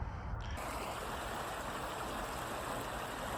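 Sequoia Creek at Green's Crossing in the town of Paris, a steady broadband rush of flowing water that stays constant and close, with no voices.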